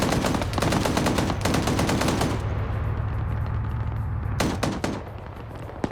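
Rapid automatic gunfire from a video game's heavy mounted machine gun fires in long, loud, dense bursts. A short pause follows, then another brief burst.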